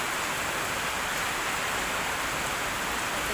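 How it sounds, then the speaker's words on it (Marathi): Heavy rain falls steadily around a terrace in a dense, loud, unbroken wash of noise with no gaps or voices. "पाऊस कसा असं पडतोय"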